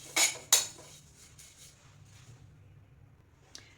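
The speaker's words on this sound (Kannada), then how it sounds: "ನಾನು ಎಲ್ಲನೂ ಡ್ರೈ ರೋಸ್ಟ್ ಮಾಡಿಕೊಂಡು ಒಂದು ಪ್ಲೇಟ್ಗೆ ಎತ್ತಿಟ್ಕೋತಾ ಇದ್ದೀನಿ" Two sharp metallic clinks ring out close together near the start as dry-roasted dals and spices are tipped onto a plate, followed by soft faint scraping and one last small clink.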